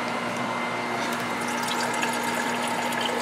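Water gushes from a biodiesel wash tank's standpipe as it is purged, a steady close splashing flow with a faint pump hum running underneath, no talking.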